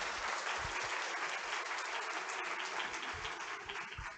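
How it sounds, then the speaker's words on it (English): A lecture audience gives the speakers a round of applause, sustained even clapping throughout with a few low thumps underneath, no speech. "let's give them a round of applause"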